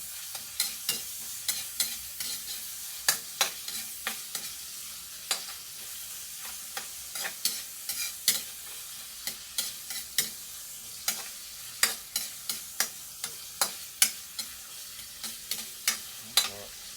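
Tomatoes frying in a pan for squid adobo, stirred with steady, repeated scrapes and clacks over a constant light sizzle, close and clear with no talking.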